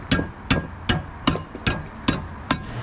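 Sharp metallic hammer strikes on the brake brackets of a Honda Z50R mini bike, seven evenly spaced blows in a steady rhythm, close and loud.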